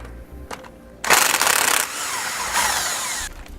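A power tool with a 13mm socket runs bolts off the sway bar bracket of a 2015 Winnebago Minnie Winnie motorhome, two loud close whirring bursts that rise in pitch, after a brief tap.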